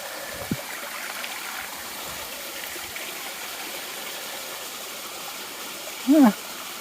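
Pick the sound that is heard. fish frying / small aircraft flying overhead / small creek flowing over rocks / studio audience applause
small creek flowing over rocks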